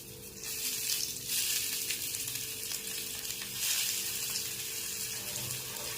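Onions and coconut frying in oil in a pan for a Maharashtrian patwadi rassa, a steady faint sizzle with soft hissing swells, no voices.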